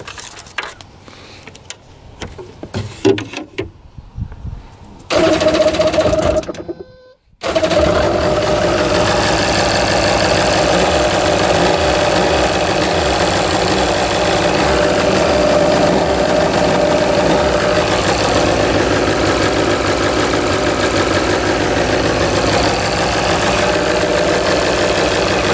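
A jet ski engine with a suspected exhaust leak cranks in sputtering bursts, briefly catches, dies for a moment, then starts and settles into a loud, steady idle with a knocking, vibrating rumble that continues throughout.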